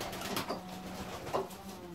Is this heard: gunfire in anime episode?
no